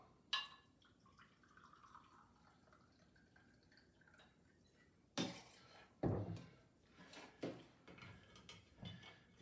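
Two ounces of dark rum go into a Bahama Mama cocktail, heard as quiet liquid trickles and dripping followed by a cluster of sharp glassy clinks and splashes, close and fairly soft with no talk.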